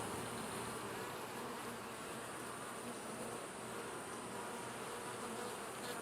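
Honeybees droning in a steady, dense buzz from an opened hive box during a quilt-box and top-entrance inspection, close and continuous with no talking.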